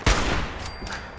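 A burst of gunfire in Fallout 4: a sharp, loud shot up front followed by a rattling volley that fades out over about a second.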